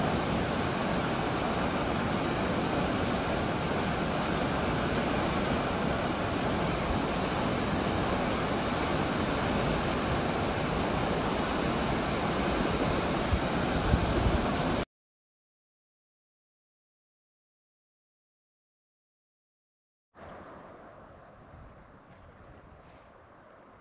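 Elk River rushing near Hinman Campground outside Steamboat Springs, Colorado: a loud, steady broadband roar of flowing water with some wind buffeting, cutting to silence midway, then returning more faintly at the end.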